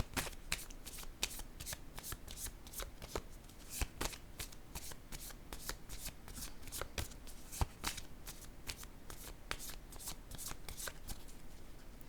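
Tarot cards being shuffled and laid down, a steady run of crisp riffling flicks and soft card slaps repeating throughout, close and fairly quiet.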